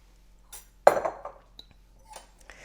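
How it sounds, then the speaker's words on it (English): A salad bowl set down on a counter and another bowl fetched, one sharp clink of dishware followed by a few faint taps and knocks, close and isolated. "So I'm going to set this aside, and I'm going to get my bowl so that I can mix together the vinaigrette."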